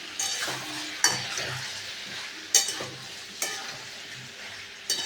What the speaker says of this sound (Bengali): টমেটোটা দিয়ে ভালো করে কলাটাকে কষে নেব।